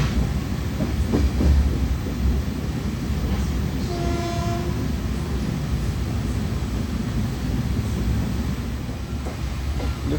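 The Kochuveli Mumbai Express runs on the Konkan Railway line with a constant loud rumble and rattle heard from inside the train, and a brief horn sounds midway.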